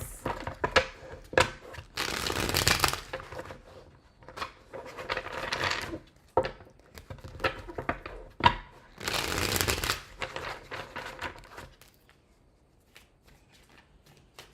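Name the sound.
shuffling tarot cards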